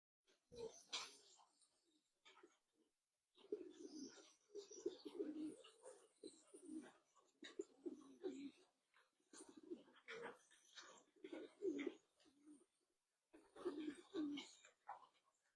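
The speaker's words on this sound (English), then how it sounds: "The birds are very active, guys." Pigeons in a loft give repeated low cooing calls through the whole stretch, close and moderately loud, broken by short pauses and a little scattered wing and movement noise.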